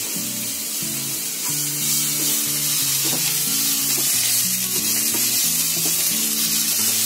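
Ginger garlic paste sizzles and crackles in a hot pan for masala pav, a steady bright hiss heard throughout beneath a melodic music track.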